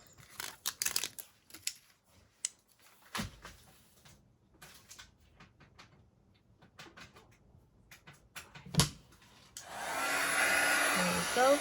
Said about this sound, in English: And now to use the heat gun.